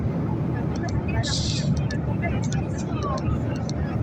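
Steady broadband roar of an airplane cabin in flight, a constant engine and airflow drone filling the whole clip with faint hissy bursts above it.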